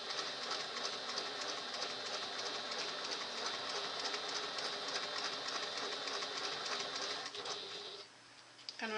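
A sewing machine stitches in a fast, steady run while sewing a small bag, then slows and stops near the end.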